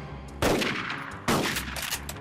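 Heavy machine gun fire from an anti-Japanese war film: two sharp, loud bursts of rapid gunfire, each ringing out briefly, the second following under a second after the first.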